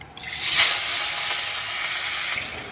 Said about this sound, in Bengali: এবারে বাকি মাছগুলোকেও ভেজে নেব লাল লাল করে।